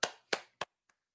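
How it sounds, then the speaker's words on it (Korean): Church congregation at a prayer meeting giving three sharp, fairly close claps followed by a fainter fourth, each crisp and quickly decaying in an otherwise quiet room. "하나님께 영광의 박수 올려드리겠습니다"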